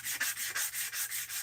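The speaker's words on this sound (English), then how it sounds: "some hand sanding." Steady back-and-forth scraping of sandpaper on a wooden spoon, a rhythmic rubbing stroke repeated about every third of a second, close and even.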